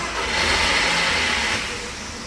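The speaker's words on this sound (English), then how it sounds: "my car's engine will now be started" A car engine started remotely with a smartphone app catches and revs up loudly nearby, then settles toward a smooth idle, with no talking.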